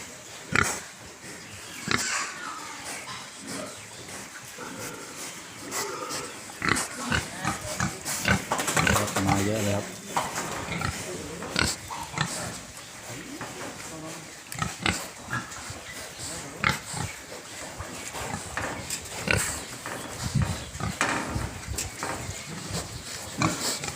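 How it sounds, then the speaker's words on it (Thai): Pigs on a pig farm, heard up close as a busy mix of grunting, snuffling and drinking noises that runs throughout, with a voice speaking at moments. "มาดูหมูกินน้ำเนะ"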